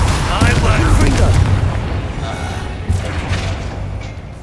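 A Confringo fire spell explodes in the Hogwarts Legacy video game: a loud, heavy boom with a rumbling tail that fades over a few seconds, followed by a second smaller thump.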